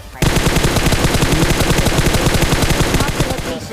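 Rapid automatic gunfire from a mobile shooter video game, a dense sustained burst of loud, evenly spaced shots running almost unbroken for several seconds before cutting off.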